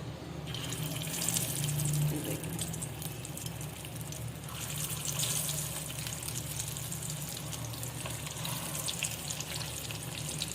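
Beef and lentil shami kababs frying in hot oil in a pan make a steady, dense sizzle that hisses close and constant throughout, with no speech.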